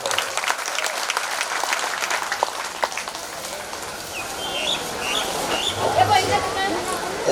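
A crowd at an outdoor Holi festival celebration breaks into sustained applause, a dense wash of clapping that holds steady for several seconds and swells slightly near the end, with faint crowd murmur underneath.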